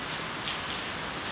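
Rain falls steadily after a solar eclipse, a dense even hiss of drops on surfaces, close and continuous with no voices.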